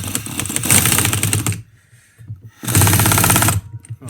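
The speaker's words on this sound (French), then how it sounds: "Un petit coup de clé à choc." Impact wrench tightening a castle nut on a Honda Dax engine during a rebuild: two loud, close rattling hammering bursts of about a second and a half each, separated by a quieter pause.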